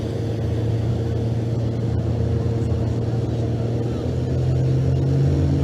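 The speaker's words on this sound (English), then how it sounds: "Make sure he gets that truck spooled up. Get on top of that turbo." A Pro Stock diesel drag truck engine drones loud and steady, building slightly toward the end as the turbo spools, with a low continuous rumble and no clear talk.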